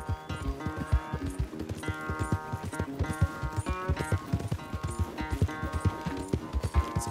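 A horse moves about a corral, its hooves clip-clopping in a steady, uneven rhythm close by, with music playing throughout.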